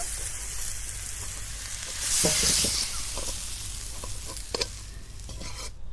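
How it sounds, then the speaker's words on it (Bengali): Raw mango pieces fry in a pan for a pickle, a continuous sizzle with scraping stirring strokes and a louder burst of hissing midway. "এইভাবে ভেজে নিলে আমের জলটি অনেকটি শুকিয়ে যাবে"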